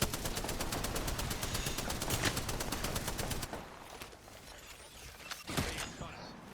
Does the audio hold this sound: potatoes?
no